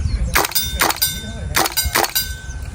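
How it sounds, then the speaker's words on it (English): A Tokyo Marui AKX gas blowback airsoft rifle firing semi-auto, four sharp metallic clacks in two pairs, close and loud over a low rumbling background, with no voices. "show you what it's like when it fires. We'll start semi-auto."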